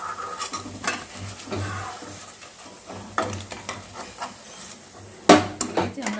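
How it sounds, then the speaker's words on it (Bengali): Water lily fritters fry in hot oil in a metal pan, a soft sizzle punctuated by sharp clanks and scrapes of a utensil against the pan. "আমি বাকি বড়াগুলোকে এইভাবে ভেজে নিচ্ছি।"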